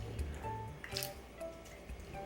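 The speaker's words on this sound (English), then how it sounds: "Then I want to drain this water and put fresh water back into the bowl on top of the potatoes." Starchy water draining from a bowl of soaking potatoes in a home kitchen, heard as faint, close dripping and soft trickling.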